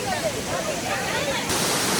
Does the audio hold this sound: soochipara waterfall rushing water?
yes